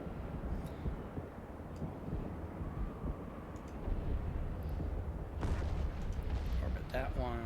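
Ship turrets fire in the space game EVE Online, a dense low booming rumble that swells and thickens toward the end, with a person talking over it.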